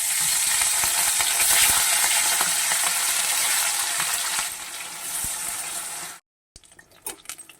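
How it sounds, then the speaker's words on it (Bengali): Pieces of rohu fish fry in oil, giving a loud, dense sizzle that holds for about six seconds before cutting out, followed by a few faint scattered clicks and clatters. "বাকি মাছগুলো ভেজে নেব"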